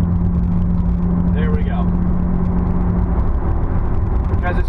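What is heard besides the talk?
Nissan 370z car driving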